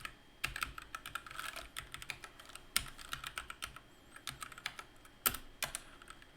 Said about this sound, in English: So to do that, we will type in delete from,